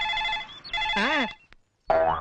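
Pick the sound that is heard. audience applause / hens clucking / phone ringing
phone ringing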